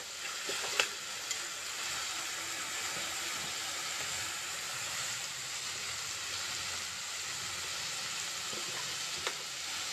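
Cluster beans frying in oil in a pan with a steady, continuous sizzle and an occasional soft scrape or clink of stirring, close and fairly loud throughout.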